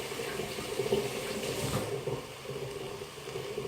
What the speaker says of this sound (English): while that's happening, I'm just washing that plate